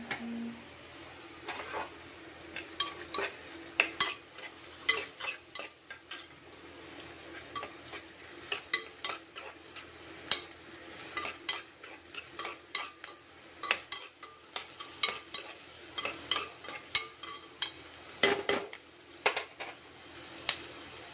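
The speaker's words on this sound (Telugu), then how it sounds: "ఇలా ఉల్లిపాయలు దూరగా వేగేదాకా ఉంచుకొని" Onions frying in a pan on a stove give a faint, steady sizzle, broken by frequent sharp clinks and scrapes of a spoon stirring against the pan.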